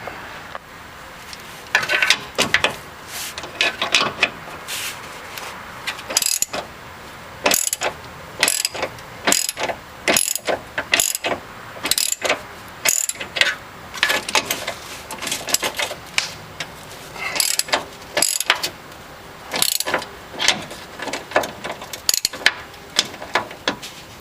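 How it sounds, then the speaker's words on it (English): A ratchet clicks in repeated rapid bursts with short pauses while loosening and retightening the top engine mount bracket nuts on a Saturn S Series, close and clear throughout. "So all I'm going to do is get up here with a ratchet, loosen those nuts and retighten them."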